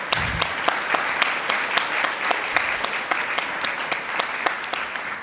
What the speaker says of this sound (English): if I can have everyone just give another big round of applause for everyone in this room today